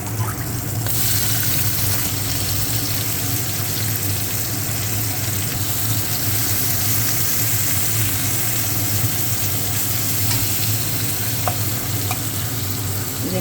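Chopped onions hit a little hot oil in a pan for a prawn and taro-stolon curry, giving a loud, steady, close-up sizzle that runs unbroken throughout with no talking.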